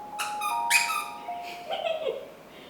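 Squeaky fursuit paws are handled, giving a few high rubbery squeaks and chirps in short bursts, close and fairly quiet against a soft background hiss.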